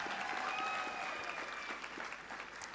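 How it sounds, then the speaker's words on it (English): An audience at a university graduation ceremony applauds the Kavango Cultural Group with steady, sustained clapping that fades slightly toward the end. "A round of applause again for the Kavango Cultural Group."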